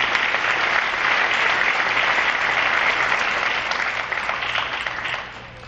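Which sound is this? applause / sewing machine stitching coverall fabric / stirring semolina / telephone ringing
applause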